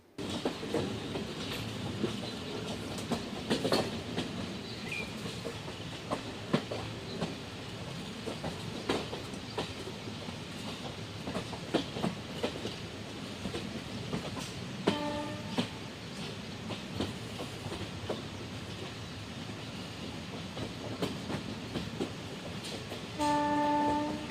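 The Semmozhi Express passenger train rumbling steadily along the tracks with rhythmic clatter, heard from on board, and a horn sounding near the end.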